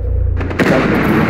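Gunshot in a team deathmatch video game round, a single sharp loud blast cutting in after a quieter rumbling stretch, followed by a sustained ringing tail.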